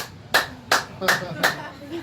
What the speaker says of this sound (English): He spreads all the fingers on his hands, and he claps like this.